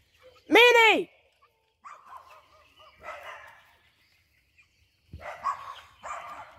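Dogs bark and whimper around a chicken yard in the morning: one loud, close bark at the start, then fainter whines and yips that come and go, with brief talk mixed in.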